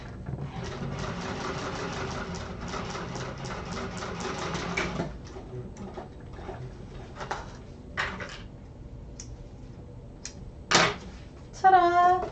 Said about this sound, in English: then top stitch through there